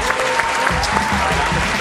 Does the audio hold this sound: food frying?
no